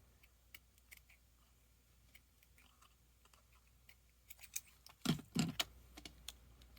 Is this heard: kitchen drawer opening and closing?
no